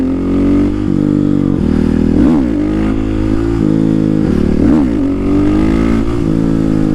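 A supermoto motorcycle engine drones loudly while riding, its pitch rising and dipping with repeated throttle blips and gear changes against a steady wind rush.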